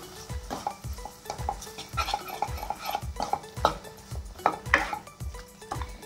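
Chickpeas stirred with curry or garam masala powder in a pan for beach-style sundal masala: steady, close scraping strokes of a spoon against metal, with rhythmic clinks repeating about twice a second.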